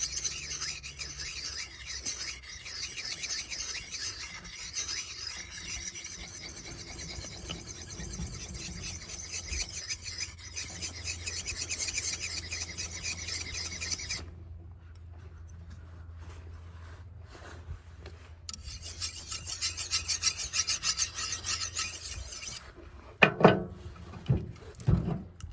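A kukri blade is sharpened on a small jade pendant whetstone while braced on a hard wooden log, giving steady close rasping and rubbing strokes that pause briefly midway, then resume before a few louder scrapes near the end.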